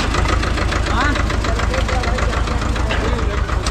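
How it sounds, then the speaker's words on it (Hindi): A tractor engine labours up the steep Kedarnath trekking route, a loud, steady knocking mid-range drone with rapid rhythmic pulsing, close and continuous throughout. "यहाँ ट्रैक्टर भी चढ़ गया भाई।"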